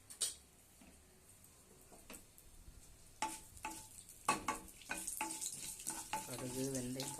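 Mustard and fenugreek seeds spit and crackle in hot oil in a kadai, quiet at first then a burst of sharp pops and ticks, with a faint voice toward the end.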